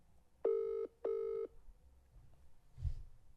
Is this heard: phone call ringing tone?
yes